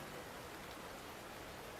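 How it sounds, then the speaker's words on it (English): Steady, hissing rainfall in Like a Dragon: Infinite Wealth, a faint, even wash of drops with no distinct pauses or other sounds. "Why is it randomly raining all of a sudden?"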